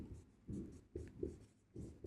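Pen strokes scratch out a Class 10 arithmetic progression maths solution in short bursts, close and fairly quiet, with pauses between the scribbled lines.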